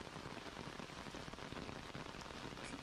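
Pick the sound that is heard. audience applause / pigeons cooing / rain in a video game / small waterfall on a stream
rain in a video game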